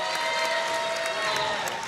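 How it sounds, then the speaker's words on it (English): A crowd at a professional wrestling event applauds and cheers steadily, a dense wash of clapping and voices. "This crowd showing their appreciation for Martyr, rightfully so, and so deserved."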